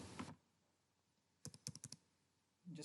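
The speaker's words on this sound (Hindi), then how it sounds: "सपोजली मैं कुछ टाइप कर देता हूँ" Typing on a computer keyboard: a quick burst of about six close, crisp keystrokes, quiet and alone, bracketed by brief rustling noises.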